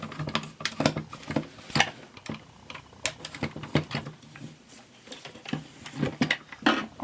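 Small screws come out of a toy tank game as it is opened. Close, irregular light clicks, taps and ratcheting scratches of a screwdriver turning and handling the plastic housing follow each other at an uneven pace, without talking.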